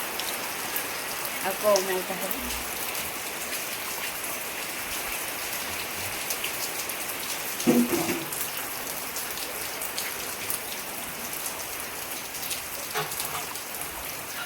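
Steady rain pours down at a cow farm in an Odisha village, a continuous hiss throughout with a brief voice speaking near the start and again around the middle.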